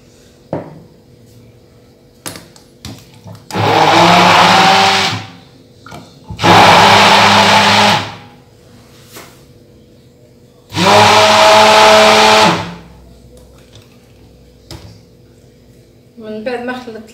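A blender whirs loudly through mozzarella cheese, spices, salt and a glass of milk in three separate bursts of about two seconds each, with small kitchen clatter in the pauses between them.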